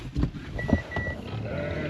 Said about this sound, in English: The peace is going to be disturbed by some sheep.